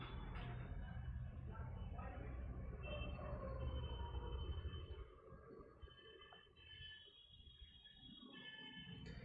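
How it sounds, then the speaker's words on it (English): Sunday-afternoon road traffic rumbles steadily and faintly in the background, a low continuous drone that eases partway through and then builds again. "There may be some background traffic noise"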